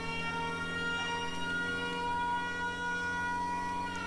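A warning siren from a giant industrial machine in the game Giant Machines 2017 holds a steady droning multi-tone wail throughout, loud and continuous with no break.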